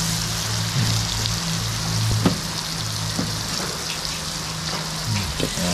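Butter sizzles loudly and steadily in a hot pan while butter garlic shrimp is being made, a close, continuous crackle with small pops and no talking.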